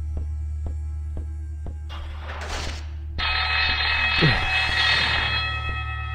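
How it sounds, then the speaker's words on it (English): An alarm sounds in a horror video game: evenly spaced mechanical ticking pulses give way to a loud, sustained tonal blare with clanking noises, and no talk. "God damn this alarm, dude."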